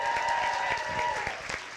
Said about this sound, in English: Please give a round of applause for Colleen O'Rourke